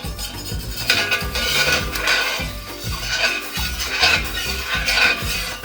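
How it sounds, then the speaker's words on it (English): Repeated scraping and clinking of a spatula against the bottom and corners of a metal pan while cooking lasagne ragu, irregular strokes continuing throughout. "I'm going to actively scrape the bottom and the corners of the pan to get everything up"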